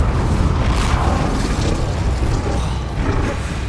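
The Incendio fire spell cast in Hogwarts Legacy, a loud, dense, continuous roaring burst of flame with crackling, sustained close-up for a few seconds.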